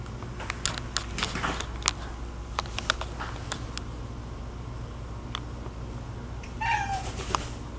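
A house cat gives a short meow near the end of a stretch of scattered taps and clicks in a quiet home, close and moderately loud, with no one speaking.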